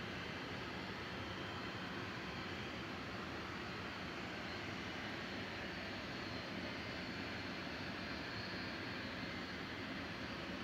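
A KLM Embraer E2 jet at Manchester Airport gives off a steady, distant engine roar with a broad rushing hiss that holds constant and faint throughout.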